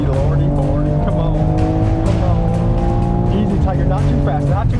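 A car speeds along a road during car surfing, its engine roaring loud and close as the tires squeal continuously, with excited voices talking over it.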